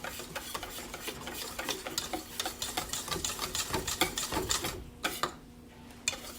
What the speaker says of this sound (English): I'm going to cream this, whisk this together, nice and creamy.